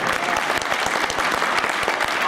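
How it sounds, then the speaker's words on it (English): Dense audience applause at a Monkees fan convention historians panel, many hands clapping steadily and loudly for the whole stretch with no pause. "we have to give Maggie a big round of applause for her"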